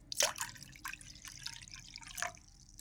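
Water is poured into a vessel in a few soft, close trickles and drips, with quiet splashes and no talking.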